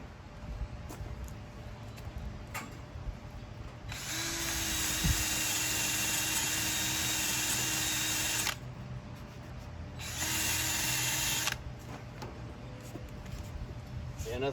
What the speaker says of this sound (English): I'm just gonna hit it with my little wire wheel and just my little portable battery drill.